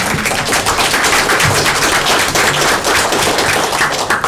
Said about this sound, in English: So we applaud him for that